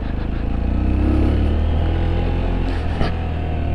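A Sinnis Terrain 125 motorcycle ridden over rough, bumpy ground, its small engine droning steadily up close with a brief thump near the end.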